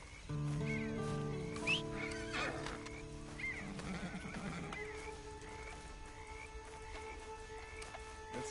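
A horse whinnies loudly near the start in Red Dead Redemption 2 Online, followed by softer snorts and a few hoof clops, with light ambient tones in the background.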